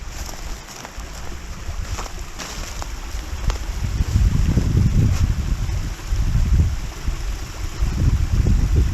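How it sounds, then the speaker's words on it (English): A small waterfall on a forest creek gives a steady broad rush of falling water, heavy and close in the low end, blended with wind buffeting the microphone, with no voices. "Look at this little waterfall."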